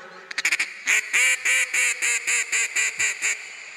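A mallard duck call is blown close by: a quick flurry of short clipped notes, then about ten loud, steady, evenly spaced quacks in a descending hail-call rhythm, with no voices.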